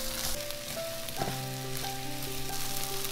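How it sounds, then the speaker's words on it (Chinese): Shrimp stir-frying in a wok with freshly minced garlic and ginger, a steady close sizzle throughout, punctuated by a clatter of the spatula partway through, with no talking. "炒虾就把剁好的蒜蓉跟姜给它放进来"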